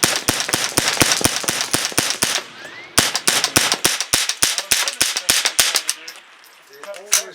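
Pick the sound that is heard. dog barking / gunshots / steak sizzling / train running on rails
gunshots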